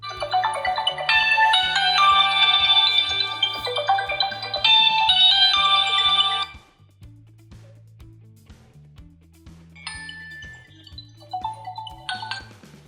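A bright melodic incoming-call ringtone on an Honor 8X phone plays in a repeating tune over a steady beat, pauses briefly, then resumes more softly.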